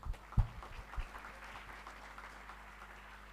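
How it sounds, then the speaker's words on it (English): Conference audience applauding as a speaker is welcomed to the stage, a thin, distant patter of clapping with a few louder claps near the start, fading into a low steady hum. "Please welcome him to the stage with a round of applause."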